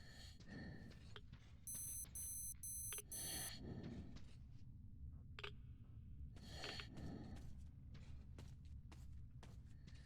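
A quick burst of high, rapid electronic beeps from the video game Metro Exodus repeats several times over a quiet background, with a few soft clicks and knocks around them.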